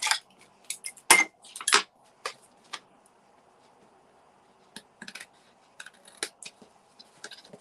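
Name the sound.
trimming excess paper off a flower craft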